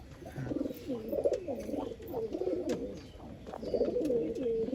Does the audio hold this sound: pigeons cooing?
yes